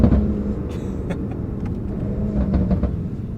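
A BMW M5 CS, a family sports sedan with 27,000 miles, gives off a steady loud engine rumble with an aggressive exhaust burble close by, with no voices over it.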